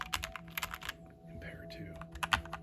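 Typing on a Keychron C1 Pro 8K TKL mechanical keyboard, a dampened, quiet patter of keystrokes in quick bursts with brief pauses, close up, while a person speaks softly.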